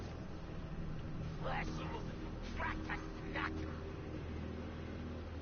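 A few short dog barks and yips from a dog in the Mad Max video game sound in bursts under steady background noise, with people talking through most of it.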